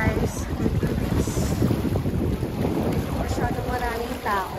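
Strong wind at Lake Louise, Canada, buffets the microphone in a steady roar, with faint chatter from people in the background.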